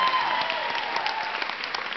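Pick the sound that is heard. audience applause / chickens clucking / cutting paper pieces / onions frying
audience applause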